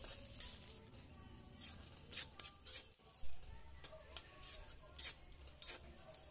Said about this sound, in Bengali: তেলটা ভালো মতো গরম করে দিয়ে দিলাম গাজর।